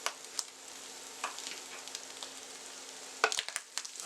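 Pilau masala stirred into meat and onions frying in a pot: a steady, close sizzle fills the clip, with a few brief spoon scrapes and clatters near the end.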